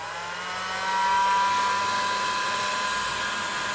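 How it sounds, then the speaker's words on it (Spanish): A heat gun blows hot air onto the graphics chip of an Acer Aspire 9303 laptop, a steady loud whooshing roar with a slight rise in intensity after the first second. "conectamos la decapadora de calor"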